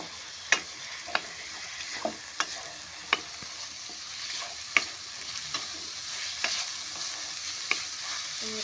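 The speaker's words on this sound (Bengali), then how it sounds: "লো থেকে মিডিয়াম ফ্লেমে সুন্দর করে ভেজে নেব" Black pepper powder and garam masala fry in a pan over a low-to-medium flame, with a soft steady sizzle under roughly a dozen sharp, evenly spaced spoon scrapes and clicks against the pan.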